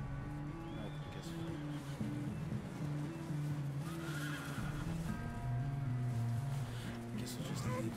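A horse neighs in the video game Red Dead Redemption 2, its whinnies appearing as tonal calls over a continuous bed of game ambience, fairly quiet, with talking heard alongside.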